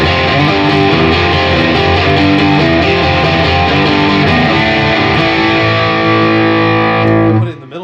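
Electric guitar played through a Boss DS-1W Waza Craft distortion pedal in custom mode, a loud sustained distorted chord texture with thick midrange that rings steadily, then cuts off abruptly near the end.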